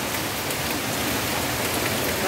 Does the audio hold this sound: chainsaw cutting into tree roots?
no